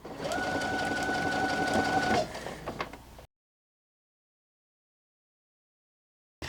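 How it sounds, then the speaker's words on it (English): Sewing machine stitching reverse applique, a close, steady mechanical whir for about two seconds, then a few light clicks as the fabric is turned, followed by silence. "It's just a lot of like sewing and rotating and just tracing."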